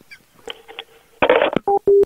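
A telephone number is dialed, giving several short, distinct DTMF beeps in quick succession, loud and close, after some faint clicks and handling sounds.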